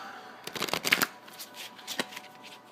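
Tarot cards shuffled by hand in a quick riffling burst of papery flutters, then a softer pause and one more brief rustle, close and fairly quiet with no talking.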